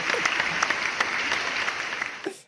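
Audience applause on a Knicks podcast, a short burst of many hands clapping with a few sharp individual claps standing out, fading quickly at the end.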